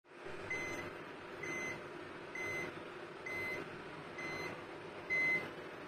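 A Panasonic SD-PM105 bread maker signals with six short electronic beeps, evenly spaced about a second apart, clear and fairly close against a faint background hum.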